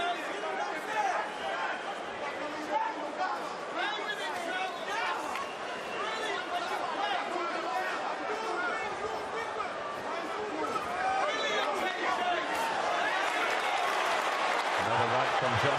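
A boxing arena crowd at a heavyweight fight between Anthony Joshua and Usyk roars and cheers continuously in a dense, wide wash of noise, with a commentator's voice running over it.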